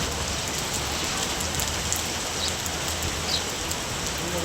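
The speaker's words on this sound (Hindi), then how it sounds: "हिमाचल प्रदेश के दूसरे इलाकों में भी बारिश हो रही है।" Heavy rain pours down in Himachal Pradesh, a dense, steady hiss of drops that stays loud and unbroken throughout, with no voices.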